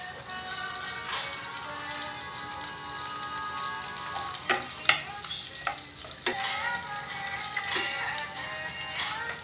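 Butter and onions fry in a pan for a shrimp and crab dish, with a steady close sizzle broken by a few clinks and scrapes of stirring, and no talk.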